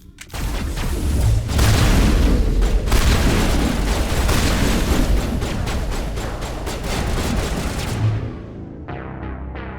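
Sustained gunfire and booming explosions from a Mass Effect firefight against Geth, loud and dense with rapid shots layered over heavy blasts, easing off near the end.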